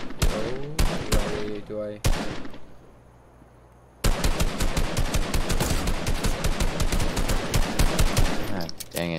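Rapid gunfire from Fortnite gameplay crackles in dense bursts, with a few separate shots, a brief lull, then a long sustained volley of loud close fire while a player speaks briefly.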